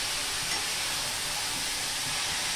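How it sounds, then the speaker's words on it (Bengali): Leafy greens sizzling in a hot pan with fried garlic, onion and chilli, a steady bright hiss and crackle running evenly and close by, with no talking. "রসুন পেঁয়াজ, ওর মধ্যে শাকগুলো দিয়ে দিলাম"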